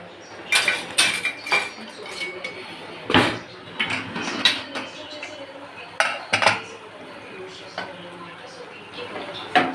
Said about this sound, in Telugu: లంచ్ ప్లేట్ తీసుకున్నాను.